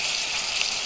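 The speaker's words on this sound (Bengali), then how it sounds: "এভাবে 10 মিনিট ভেজে নেব" Duck meat frying in a pan, a steady hiss of sizzling oil heard close up without any talk.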